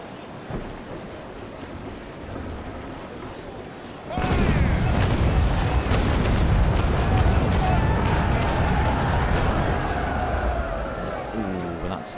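Naval Action ship cannon fire bursts into a heavy, sustained low rumble over a windy, sea-like wash, loud and continuous for several seconds after a quieter stretch, with a voice talking over it.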